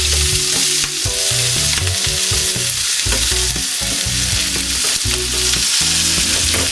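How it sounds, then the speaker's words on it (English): Onions and peppers fry in a pan, a loud, constant crackling sizzle with steady bubbling and occasional stirring scrapes, heard up close and alone with no talking. "I'll carry on cooking the onions and the peppers"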